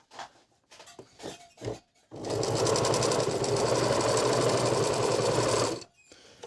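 A Singer 822 sewing machine runs a straight stitch at a fast, even mechanical chatter for about four seconds, after a few handling clicks and knocks beforehand.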